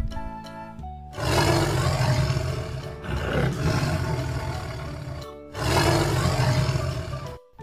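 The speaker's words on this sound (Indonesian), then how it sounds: "Ada harimau putih." A white tiger at a zoo gives deep, loud roars in two long bursts separated by a brief pause, close and powerful, with no talking over them.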